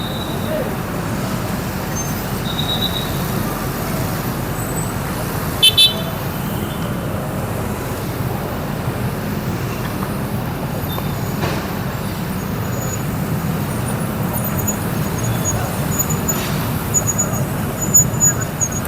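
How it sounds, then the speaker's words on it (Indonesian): Busy road traffic near the Senen bus stop in Jakarta rumbles steadily for the whole stretch, with cars passing, a distant horn toot and people talking now and then. "mobil yang di sana sangat ramai ya"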